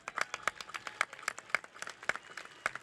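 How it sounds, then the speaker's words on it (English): Graduation audience clapping for teachers at a high school ceremony, a sparse spread of distinct hand claps, fairly faint, with no talk over them. "They deserve a round of applause."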